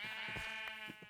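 Sheep bleating in Minecraft, a few short wavering calls over a steady tonal background hum, close and moderately loud.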